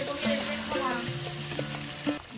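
Coriander and spices sautéing in a hot cooking pan for a Bengali home-style dish, a steady close sizzle with stirring scrapes, while a voice hums or speaks faintly over it.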